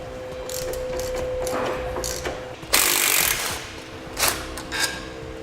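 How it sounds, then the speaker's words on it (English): A hand ratchet fitted with a 13mm socket backs a bolt out of a vehicle's core support during a Roadmaster crossbar-style base plate install; quiet, close clicking comes in short bursts with brief louder metallic knocks, with no talk. "We're going to be using a 13mm socket."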